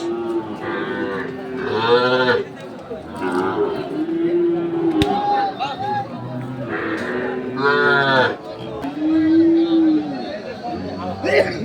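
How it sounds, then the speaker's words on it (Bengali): Young Sahiwal bull calves moo several times in long, low calls close by at a cattle market, while people chatter in the background. "পাকড়া সাইওয়াল টাইপের গরু এটি আমরা দেখছি"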